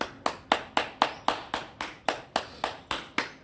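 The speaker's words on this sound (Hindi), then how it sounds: "एक बार ताली से हो जाए" A group claps in unison during a yoga session, about a dozen sharp, evenly spaced claps in a steady rhythm. No voices are heard.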